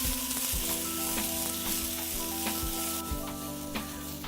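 Brussels sprouts blacken in a hot pan, giving a steady, bright sizzle and hiss with occasional soft clicks from the pan, close and continuous without speech.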